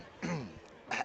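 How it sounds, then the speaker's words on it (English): A man clears his throat once, a short rough rasp near the mic, followed by a quieter breathy catch a moment later. "Let me clear my throat."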